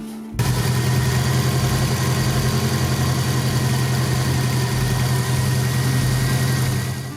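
A rally prototype car's engine starts abruptly and settles into a loud, steady idle with a strong low drone and an even rhythmic pulse, close by and with no one talking.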